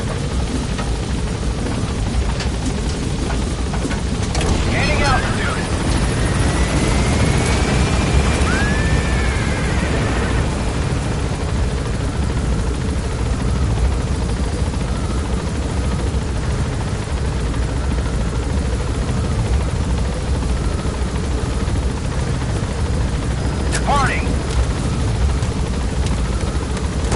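A helicopter in Metal Gear Solid 5 gains altitude, its rotor drone steady and loud throughout with a low continuous thrum and occasional faint mechanical clanks.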